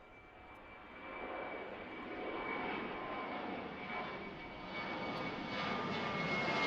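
A fixed-wing airplane departing Washington Reagan National Airport roars steadily throughout, its broadband engine noise swelling slightly as it climbs and holding loud to the end, with no talk over it.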